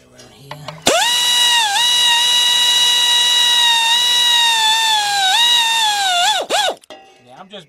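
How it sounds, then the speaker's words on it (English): A power tool winds up and runs at a steady high whine for about five seconds, dips briefly, then spins down while snugging bolts through a 9-inch 3/8 drive extension on the 3.7 engine of a 2003 Jeep Liberty Sport. "I'm just bringing them in snug just a little bit"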